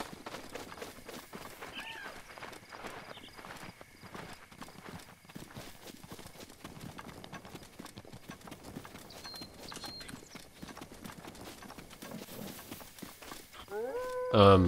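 Horse hooves clip-clop steadily at a walking pace while riding in the video game The Legend of Zelda: Breath of the Wild, with game music and a voice talking over the rhythmic steps.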